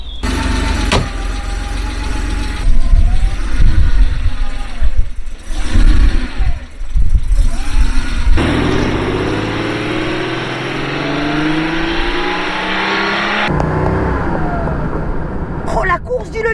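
A Porsche 930 911 Turbo is started and driven off, its engine rumbling and revving through rising and falling pitch sweeps as gears change, with someone speaking French over the first part.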